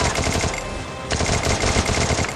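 Rapid automatic gunfire bursts in the Free Fire battle royale video game, dense and continuous with a brief dip midway before resuming loud and close.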